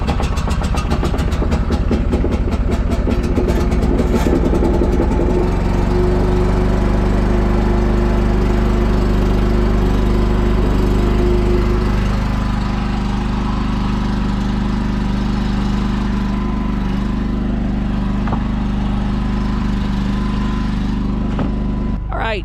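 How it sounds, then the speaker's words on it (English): A portable gas-powered generator runs steadily close by outdoors in winter, with a loud, constant low engine drone that settles into an even rumble after a rough start. "So that is our generator noise out here."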